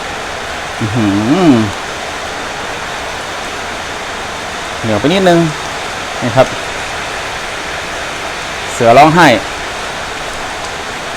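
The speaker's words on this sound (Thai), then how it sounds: "ฝนตกนักขนาดครับ" Heavy rain falls steadily during outdoor cooking of a buffalo meat dish, a constant loud hiss throughout, with someone talking over it in short bursts.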